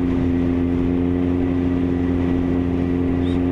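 A Honda Fireblade CBR954RR sport motorcycle engine hums steadily and smoothly at about 3,000 rpm, with a strong low tone, running evenly and continuously close by.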